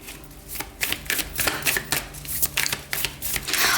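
Tarot cards being shuffled by hand, a rapid series of close, crisp papery riffles and slaps in uneven bursts over a few seconds, with no talking.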